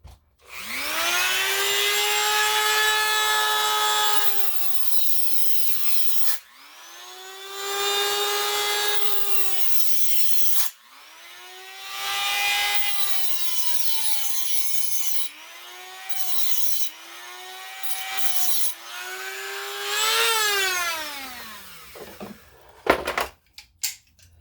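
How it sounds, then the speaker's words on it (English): A Dremel rotary tool cuts a notch in a lightning rod ball end cap, giving a loud, close, high whine that rises and falls in several long bursts with brief gaps between them. "And I'll get the Dremel out for that."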